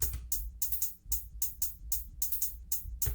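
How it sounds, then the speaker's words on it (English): A programmed drill beat with crisp shaker hiss accents and skittering hi-hats above a soft low thump, steady and quiet, no speech. "And then I always like to add in a shaker to it."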